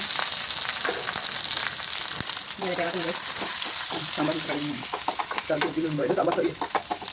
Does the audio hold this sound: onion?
yes